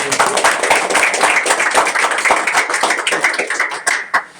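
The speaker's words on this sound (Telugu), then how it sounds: "వన్స్ అగైన్ అందరు క్లాప్స్ కొట్టాలి" A crowd claps together at an inauguration event, with dense, loud, continuous applause of many hands that thins into a few scattered claps near the end.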